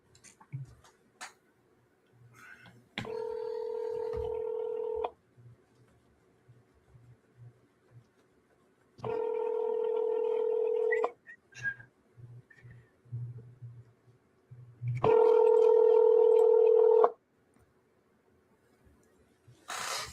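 A telephone call connects with three long, evenly spaced electronic ringing tones, each about two seconds, separated by quiet gaps with faint small clicks.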